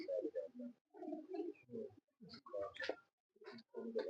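Champion pigeons coo in soft, throaty bursts, several short rolling calls separated by brief pauses, close and fairly quiet with no talk over them.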